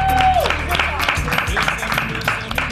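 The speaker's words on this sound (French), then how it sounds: "On peut l'applaudir." Studio audience applause on a French live television broadcast, a steady patter of clapping under ongoing voices and background sound.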